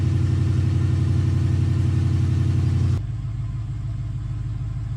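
A Ram 2500 pickup's 5.7 HEMI V8 runs at a loud, steady high idle, then drops abruptly to a lower, calmer idle drone partway through, with no talking.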